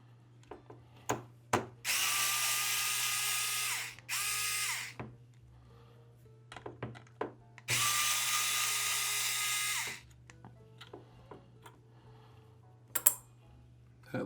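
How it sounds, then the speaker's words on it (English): An electric screwdriver backs out 1.5 mm hex screws from the front shell of a DJI Agras remote controller, giving two long whirring bursts and a shorter one, with clicks and handling noises between them and no talk. "Handy dandy electric screwdriver to save the day."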